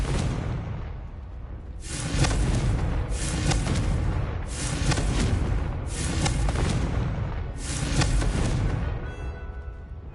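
Repeated Confringo blasting curse explosions in Hogwarts Legacy, four or five heavy booming blasts in steady succession, each a loud rumbling burst with a whooshing tail, close and dominant.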